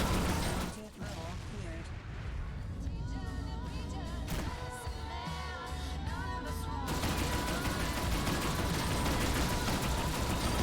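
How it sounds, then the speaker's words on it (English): Explosions and rapid gunfire in the space combat game Rebel Galaxy Outlaw, a dense run of sharp blasts and bursts over continuous game noise and music, with some talk mixed in. "The explosions are very nice."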